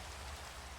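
Steady rain in the Minecraft video game, a dense even hiss of falling drops with no talk over it.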